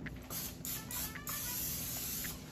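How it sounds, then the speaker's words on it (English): A few short hissing bursts of cooking spray onto a pizzelle iron, close and fairly quiet, with brief pauses between them. "So I just spray this one time with pan"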